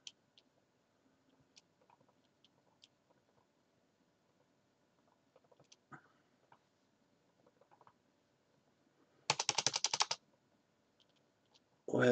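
Typing on a computer keyboard while working in AutoCAD: sparse, faint individual key clicks for most of the clip, then a quick loud burst of rapid keystrokes near the end, close-up in a quiet room.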